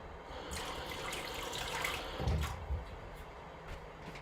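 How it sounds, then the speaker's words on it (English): Hands being washed under a running kitchen tap, a steady gentle stream of water with a few soft splashes, close and moderately quiet. "Let me just wash my hands real quick."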